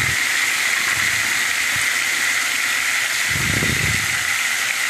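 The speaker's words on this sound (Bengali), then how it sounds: "দিয়ে আলুর টুকরোগুলো ভেজে নিলাম" Small potato pieces sizzle in hot oil with salt and turmeric, a steady bright hiss broken by a few soft lower clatters as the pieces shift in the pan.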